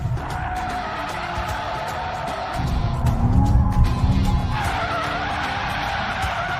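A Mercedes-AMG E63 S in rear-wheel-drive drift mode skids with loud sustained tire squeal over a roaring engine. The squeal and engine swell louder in the middle and stay steady and close throughout.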